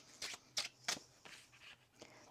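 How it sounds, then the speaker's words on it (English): Tarot cards being shuffled by hand in a run of soft, quick riffling bursts, about five or six in all, quiet and close. "One more shuffle."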